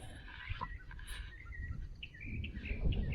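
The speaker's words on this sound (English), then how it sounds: "I hear you, bird." Outdoors by a pine tree near a garage site, a bird chirps in quick, thin, high notes, fairly faint, over low rustling background noise.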